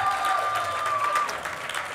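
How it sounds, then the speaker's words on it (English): An audience at a Black British comedy panel at the London Jerk Festival claps for the panellists, a short, fairly even round of applause that fades slightly toward the end. "Can we get a big round of applause for our panellists"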